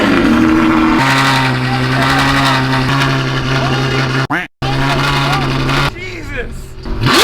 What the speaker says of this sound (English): It has the F1 exotic high-pitched sound, which I really like.